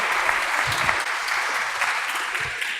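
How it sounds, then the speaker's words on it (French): Steady, dense applause from an audience at a serious games event, clapping for a gold medal winner; even and continuous throughout with no voices. "Vous pouvez l'applaudir"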